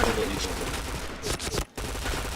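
Dense bursts of automatic gunfire from the online shooter Point Blank, rapid shots overlapping in a continuous loud fusillade with a brief gap near the end, under game audio and faint talk.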